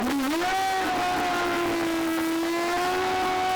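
A steady, loud NHRA Pro Stock drag racing motorcycle engine drone holds a nearly constant pitch after a brief rise at the start, sustained for a few seconds with no talking.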